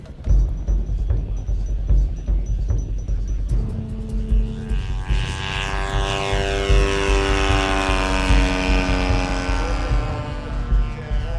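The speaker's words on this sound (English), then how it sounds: "We saw this scramble of quarter-scale Supermarine Spitfires." Quarter-scale model Supermarine Spitfires scramble at an outdoor model airshow. A loud, close piston-engine drone rises sharply partway through and holds steady as the aircraft roar past, its pitch shifting.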